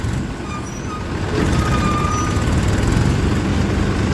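A large trolla truck reverses nearby with a loud, steady engine rumble that swells slightly and continues throughout.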